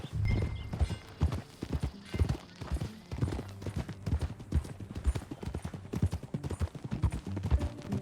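A horse's hooves clip-clop at an even walking pace while being ridden, with crisp, close, regular strikes throughout and a faint snort or whinny early on.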